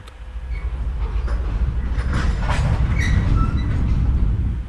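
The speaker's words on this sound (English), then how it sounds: "You can hear the trains around you, and as you enter or leave a depot, you are told." Trains rumbling past in a blind-accessible train video game, a steady, loud, continuous rolling rumble with faint clattering and metallic squeaks throughout.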